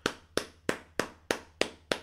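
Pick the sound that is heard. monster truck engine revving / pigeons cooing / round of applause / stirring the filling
round of applause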